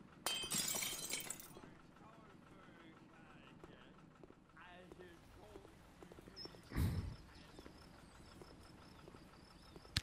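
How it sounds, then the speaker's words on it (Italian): Glass shattering in the cafe management game Cafe Owner Simulator, a sharp bright crash at the start followed by quieter game ambience, thuds and a later low impact, with a voice talking at times. "ha rotto il vetro"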